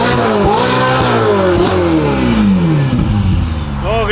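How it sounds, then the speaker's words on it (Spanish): A catless Ferrari 488 revs hard and downshifts with rising and falling engine pitch and sharp gear changes, loud and close, while excited voices talk over it. "¿Cómo grita, los downshift que..."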